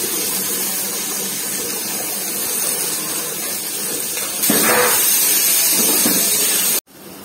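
Boiled potatoes and capsicum sizzle in hot oil for an aloo bhuna, a steady broadband frying hiss that swells louder midway as more goes into the pan, then cuts out abruptly near the end; no talking.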